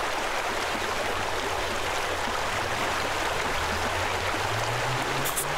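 Rushing water drains out of a pool in the Pool Cleaning Simulator game, a constant, loud, stream-like roar. A faint low tone slowly rises beneath it near the end, and no voices are heard.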